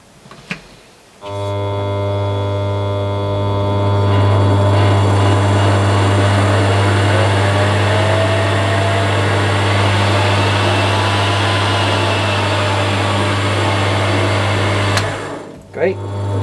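Metal stock clamped in a lathe chuck spins up, a loud steady motor hum with whining tones that holds for about fourteen seconds before winding down.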